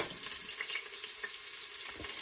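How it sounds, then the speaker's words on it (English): Garlic sizzles and pops in hot olive oil, a steady broad frying hiss with a few soft crackles, close and moderately quiet, no voices. "my garlic's browning and popping and enjoying some heat in that olive oil"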